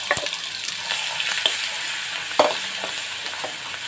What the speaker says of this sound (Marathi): मसाला असा 1 मिनिटभर परतायचा आहे